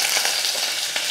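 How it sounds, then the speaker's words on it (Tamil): Steady hot-oil sizzle of mustard seeds, urad dal and curry leaves tempering for rasam, a continuous crackling hiss with a few brief pops, close and fairly loud, no voices. "ரசம் தாளிக்கிறதுக்கு எண்ணெய் ஊற்றிக்கலாம்."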